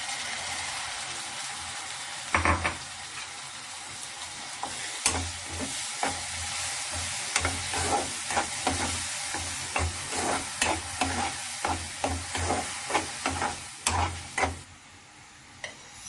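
Ground onion paste sizzles steadily in a pan for baby corn masala, a continuous frying hiss punctuated by repeated scraping spoon stirs, close and fairly loud.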